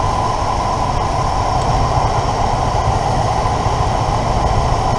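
A 1977 Ford Thunderbird V8 runs steadily at idle during a misfire test, giving a loud, continuous low rumble with an even engine drone and no talking.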